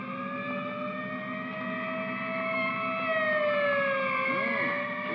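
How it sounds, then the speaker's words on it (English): Police and ambulance sirens wail continuously, several tones rising and falling together as they swell slightly louder, with no other sounds over them. "Police ambulance and everything."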